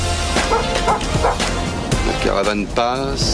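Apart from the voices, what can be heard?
dog barking, radio sound effect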